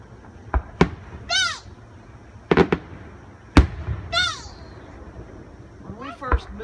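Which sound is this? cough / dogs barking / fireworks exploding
fireworks exploding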